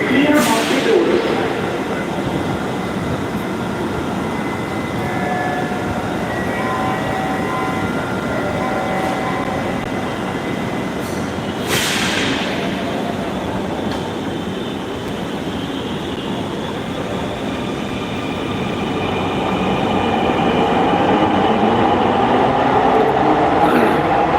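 A Dhaka metro rail train rides from Motijheel to Bijoy Sarani, heard from inside as a steady loud rumble and rushing hum with brief higher tonal whines and a couple of sharp noise bursts, over faint background voices.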